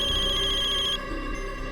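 A telephone rings late at night with a bright, repeating electronic ringtone that pulses steadily, then cuts off partway through and leaves a quieter background hum.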